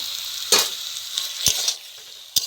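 Eggplant cooking lightly in a pan with cloves, cinnamon and cardamom paste, giving a steady hiss of sizzling oil broken by a few sharp utensil taps.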